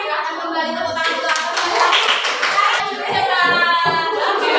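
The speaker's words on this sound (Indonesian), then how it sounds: "Silahkan kembali tepuk tangan ke" Classroom clapping for a group presentation, a steady patter of many hands running throughout, with children's voices mixed in.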